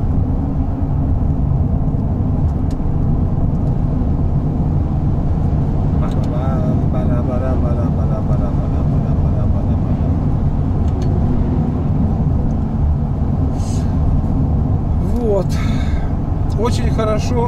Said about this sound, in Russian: С прицепом машина идет.